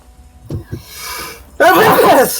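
A loud, sudden sneeze bursts out after a brief quieter stretch with a few small throat sounds, close to the listener.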